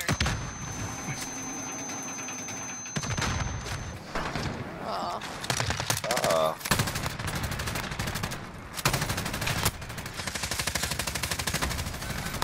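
Gunfire in Modern Warfare rattles in rapid automatic bursts and heavier single shots, loud and close, with dense firing continuing through the clip and a voice talking in places.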